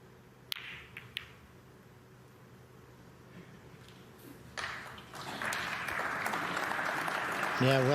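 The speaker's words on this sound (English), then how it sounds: "The crowd really appreciating all this good safety play." Crowd at a Northern Ireland Open snooker semi-final breaks into applause after a safety exchange, following a couple of sharp ball clicks; the clapping swells from quiet to a steady moderate patter and continues to the end.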